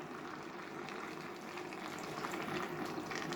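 Hot water poured from a kettle into a pan of Hunkar Begendi sauce, a steady continuous splashing hiss with bubbling that holds close and even throughout, without talk.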